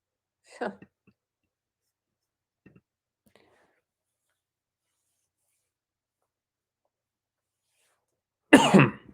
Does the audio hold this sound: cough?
yes